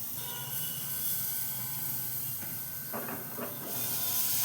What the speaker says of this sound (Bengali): তাই আমি আঁচটাকে কমিয়ে দিয়েছি, দিয়ে ঢাকা চাপা দিয়ে এটাকে ভাজছি।